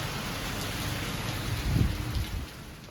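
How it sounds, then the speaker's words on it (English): Heavy rain pours in a dense, steady hiss on a cold day, with a soft low rumble swelling briefly partway through. "now it's pouring. It is cold and raining"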